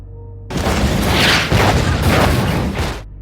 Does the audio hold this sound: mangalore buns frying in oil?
no